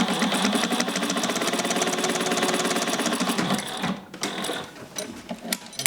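A Juki 1541S industrial sewing machine stitches through two layers of 500D Cordura, giving a steady rapid mechanical chatter with even rhythm and a faint hum beneath. It stops abruptly near the end, leaving scattered clicks.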